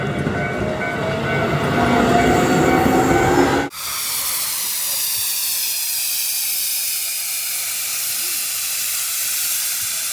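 A train passes close by a station in Kyoto or Nara, with a loud rumbling, hissing rush that cuts abruptly partway through and continues as a steady roar.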